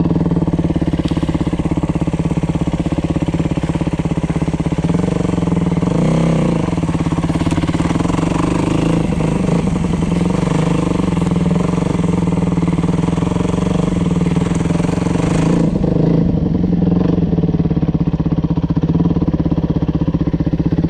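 A Yamaha dirt bike runs in second gear while being ridden through snow, its engine holding a loud, steady drone throughout with slight swells in pitch and a brief drop in intensity near the end.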